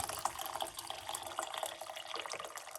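About a cup of water being poured into a pot for turmeric, ginger, rosemary and clove tea, a short bright splashing trickle with small droplet bursts, close and fairly quiet, no voices.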